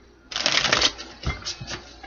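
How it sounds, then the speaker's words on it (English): A deck of tarot cards shuffled by hand: one long riffle burst followed by a few shorter ruffling flicks, close and crisp, with no voices. "2 more shuffles."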